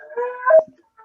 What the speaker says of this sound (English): the dog's howling at the sirens outside right now